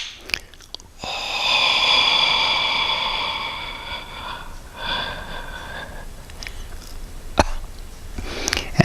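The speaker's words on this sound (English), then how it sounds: "And I cough out that last breath" A forceful cough expelling the last breath during a breathing exercise, a raspy, wheezing exhalation that lasts several seconds and trails off into quieter breath sounds, close and clear.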